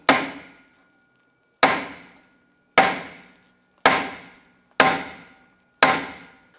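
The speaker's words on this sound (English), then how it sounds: "use a hammer, and we're going to strike the drum around the perimeter" Hammer blows against a rusted rear brake drum on a 2001-2007 Ford Escape, six sharp metallic strikes spaced about a second apart, each ringing briefly before decaying, close and clear with no talking.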